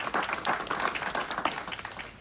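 Audience applause at a community event where sponsors are being thanked, a steady wash of many hands clapping at moderate volume with individual claps standing out, no talk over it.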